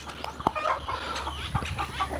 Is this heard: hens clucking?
yes